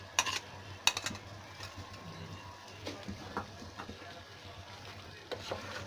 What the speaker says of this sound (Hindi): अब इसको अच्छे से इसके साथ मिक्स करेंगे।